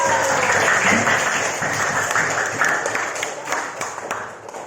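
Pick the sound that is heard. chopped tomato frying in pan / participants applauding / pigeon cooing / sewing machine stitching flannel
participants applauding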